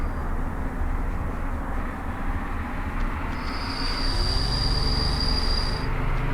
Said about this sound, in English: Almost 200 workers on the train heading for oil refinery.